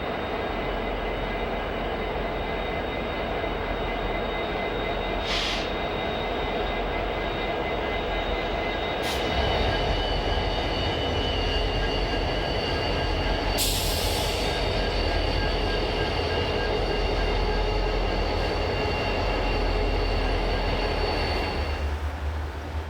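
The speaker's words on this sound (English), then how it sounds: "The units head back west with the rest of their train." Santa Fe freight train locomotives roll along the Richmond–Stockton line near the Alhambra Valley Trestle, with a steady, loud rumble of engines and cars and occasional sharp wheel squeals over the whole stretch.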